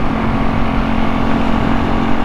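Kawasaki KLE500 motorcycle engine on a test ride with rejetted carbs, a steady loud droning engine note under wind rush, continuous throughout with no voices.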